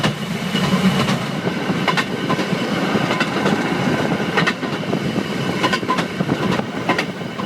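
A rail speeder rumbles along the railroad tracks with rhythmic clicking over rail joints, steady and fairly loud, with no voices.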